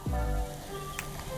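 Tempeh drops into hot oil in a pan and sizzles steadily, a fizzing crackle close by with a low thump at the start as it goes in.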